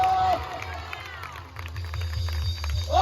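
A church congregation claps and cheers in praise during a meeting, a dense burst of crowd noise with rhythmic clapping and voices under it, swelling again at the end.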